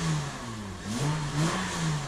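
Modified Honda NSX replica with a louder muffler revving, the engine note rising and falling through a couple of short throttle blips, close by, with no speech.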